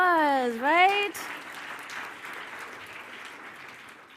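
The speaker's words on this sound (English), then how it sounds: "Round of applause," Audience applause at a CANEX Weekend 2022 business event, a broad steady patter of clapping that follows a shouted voice and carries on at moderate level to the end.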